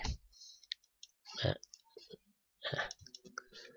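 A small Mikey plug-in microphone connector for iPhone and iPad is bent and folded, giving several crisp, close plastic clicks spaced irregularly, with a person speaking between them.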